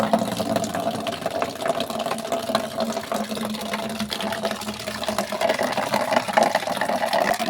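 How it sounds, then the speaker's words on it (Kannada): Water runs steadily into a bucket at a petrol station, a continuous rushing stream with a low engine hum idling underneath throughout. "ಅಲ್ಲೇ ಪೆಟ್ರೋಲ್ ಬಂಕಲ್ಲಿ ಹಂಗೆ ಒಂಚೂರು ನೀರು ಹಿಡ್ಕೊಬಿಟ್ಟು"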